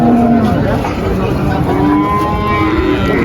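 Cattle at a busy livestock market in Muntilan, with bull and calf stalls, low mooing over a dense crowd din, loud and close, with voices murmuring in the background.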